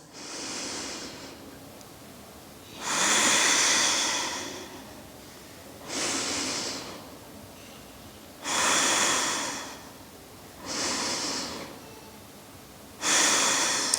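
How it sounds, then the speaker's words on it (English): Five slow, deep breaths drawn in and out through the nose with the mouth closed, each a broad hissing inhale or exhale lasting about a second, close and clear with quiet pauses between them and no talk. "close your mouth and take a deep breath in through your nose"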